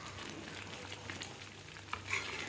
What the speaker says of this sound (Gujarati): હવે હાઈ ફ્લેમ ઉપર ફાસ્ટ આવી રીતે હું હલાવતી જઈશ